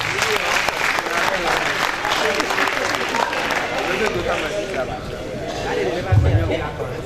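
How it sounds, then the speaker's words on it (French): An audience at a national patriotic slam poetry championship claps loudly and continuously, with a few louder bumps near the end and possible voices mixed in. "Merci d'applaudir très fort pour Balis"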